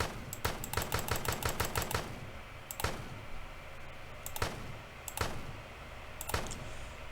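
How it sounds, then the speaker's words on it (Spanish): Gunshot sound effects from a homemade video game in development: a rapid burst of shots, then single sharp shots spaced about a second apart, over a low steady background hum. "cuando dispare, se reproduce la animación y se escucha un sonido de disparo"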